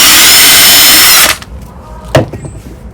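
A power drill drives a screw into a wooden storage box, a loud, steady close whine lasting over a second. It stops abruptly, followed by a sharp knock and soft handling clatter.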